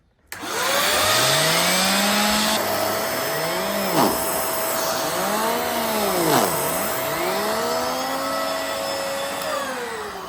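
A Bissell upright vacuum cleaner with a turbo brush starts up and runs loudly. It drones steadily at close range, its pitch rising and falling in sweeping waves as the load on the brush changes.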